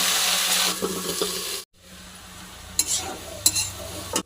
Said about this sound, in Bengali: শাকটা ভাজি করার জন্য পেঁয়াজ দেবো, লঙ্কা দেবো, রসুন দেবো, শাকগুলো দিয়ে দেবো